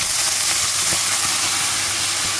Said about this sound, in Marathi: कापलेल्या मिरच्या चांगल्या छान फोडणी झाली आणि आता हा कांदा टाकते